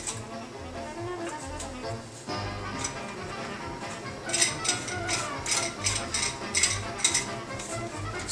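Coarse grinding wheel parts being screwed onto a meat grinder for Polish sausage, heard as light metallic clicks and ratcheting taps that quicken into a series of sharp clinks, close and fairly quiet.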